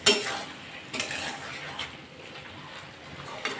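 Cabbage and prawn curry being stirred in a pan, with a utensil scraping and clinking against the metal in a steady, close rhythm, one sharper knock near the start and another near the end, no talking.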